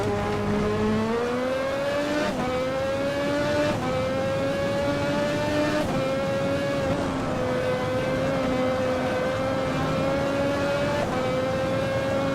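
A 1988 Formula 1 turbo car engine in the racing game Automobilista at the Belgian Grand Prix, with a loud, sustained high-revving whine that climbs and drops at gear shifts every couple of seconds.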